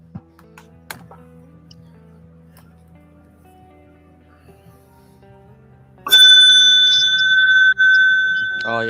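A bright, sustained notification chime rings out suddenly after quiet, loud and tonal with a brief cut before it carries on, following faint scattered ticks.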